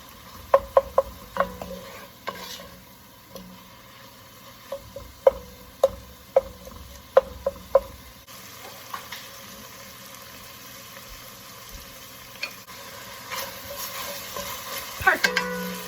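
Ingredients for an Italian sausage and spinach soup are stirred in a hot pot with kosher salt, giving a string of sharp scraping clicks and taps over a soft sizzle, near and steady, with no talking.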